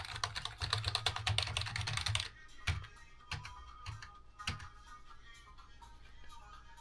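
Typing on a Dell Bluetooth keyboard: a quick, dense run of clicky keystrokes close by, then slower scattered taps.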